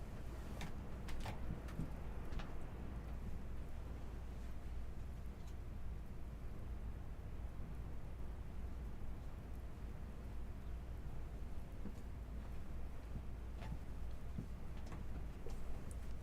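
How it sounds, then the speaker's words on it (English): Heavy rain pours steadily outside as a dense, continuous wash of noise, with a few sharper drips or taps scattered through it and no talking. "Getting the wild rain right now"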